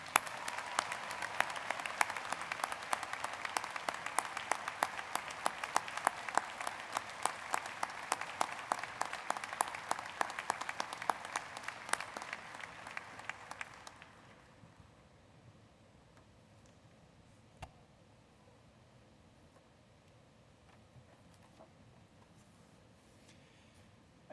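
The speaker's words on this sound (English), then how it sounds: "another round of applause for a great man" A crowd at a fall university commencement ceremony breaks into sustained, dense clapping lasting about fourteen seconds, then it stops abruptly, leaving a quiet room with a few faint stray noises.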